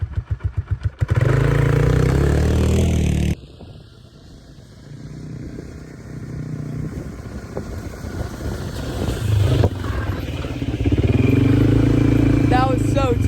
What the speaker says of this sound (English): I'm gonna go on the 4-wheel.